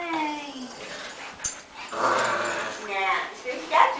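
A puppy makes soft growls and high whimpering whines in several short bursts, close by and fairly faint, with people talking around it.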